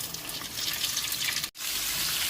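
Breaded broast chicken pieces fry in a pan of hot oil over medium heat, giving a steady, dense sizzle that cuts out for a split second midway before resuming just as strongly.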